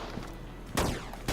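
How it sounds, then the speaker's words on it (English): Gunfire in a guerrilla-warfare shooter game: two sharp loud bursts of shots land close by, one near the middle and one at the end, over a steady low background rumble. "Now I'm hearing shots landing near me."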